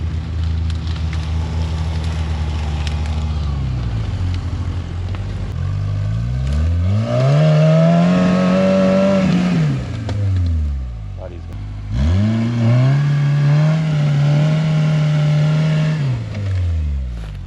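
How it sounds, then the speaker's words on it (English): Engine of a Toyota rock buggy revving while crawling over rock: a low rumble rises into two sustained throttle swells that climb, hold and drop back, loud and close. "Oh, that was some skillful throttle work there."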